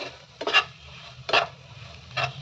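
Salt being stirred into egg podi in a pan, three scraping stir strokes spaced apart against a low steady background hum, fairly faint and close.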